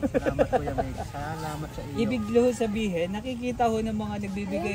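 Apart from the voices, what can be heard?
No distinct noise like a dog, phone or traffic.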